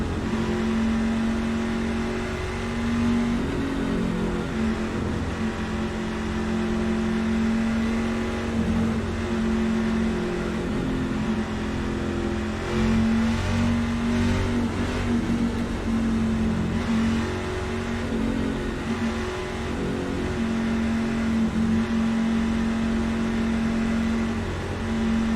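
Racing truck engine held at full throttle at Daytona in iRacing, a steady droning hum that holds nearly one pitch for the whole stretch at moderate loudness, with no voices.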